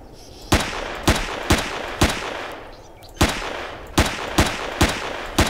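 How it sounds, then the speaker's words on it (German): Gunfire from the German-played space survival game Empyrion Galactic Survival: a string of sharp, loud shots in irregular bursts, about ten cracks over a few seconds with a brief pause midway, over a steady hissing background. "Gleich unterrollen und dabei schießen."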